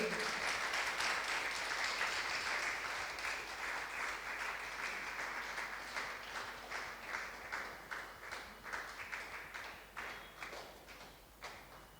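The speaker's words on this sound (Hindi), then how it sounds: "मुझे तो लगता है तालियों की करतल ध्वनि रुकनी नहीं चाहिए" Applause from a crowd at a Maheshwari senior women's association gathering in Akola, continuous clapping that thins into more distinct, separate claps toward the end, moderately distant and gradually fading.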